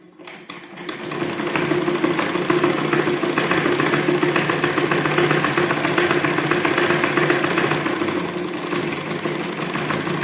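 A sewing machine runs steadily through basic stitches, a fast, even, mechanical whirring clatter that starts within the first second and keeps going close and loud to the end, with no talking.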